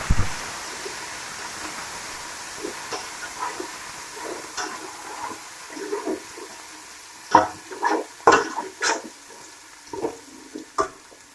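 Chicken sizzles steadily in a hot pan with garlic and ginger under a soft hiss, with scattered scraping and clinking of a utensil that grows busier toward the end.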